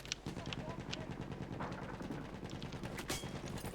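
Gunfire in the video game Battlefield 1 rattles as steady rapid bursts and distant shots through a dense, noisy battle mix, with someone talking underneath.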